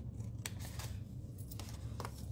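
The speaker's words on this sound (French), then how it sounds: "Juste pour dire que je les coupe en biseau" Scissors snipping design paper at a bevel, a few soft crisp cuts at moderate distance over a low steady background hum, no speech.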